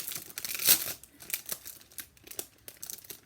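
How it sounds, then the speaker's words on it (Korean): Gift packaging crinkles and crackles as it is unwrapped, with one loud crunchy burst early on and then softer, scattered rustles nearby, no talking. "예인스의 선물인 척하고 이렇게 언박싱 투게더"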